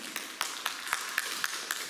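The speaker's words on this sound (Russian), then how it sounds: "Давайте встретим его аплодисментами наших красивых и замечательных девушек." Sparse, regular claps from a small audience welcoming a vocal ensemble at a choir concert, evenly spaced single hits over a faint room background.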